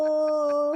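A voice imitates a wolf howl, a single sustained, steady tonal note held close and loud for under a second with a slight waver at the end.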